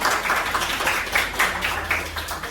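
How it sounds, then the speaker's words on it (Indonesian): Classroom applause for a student, a soft, fairly distant round of clapping from a group, pattering steadily for a couple of seconds. "kita kasih tepuk tangan untuk Indah."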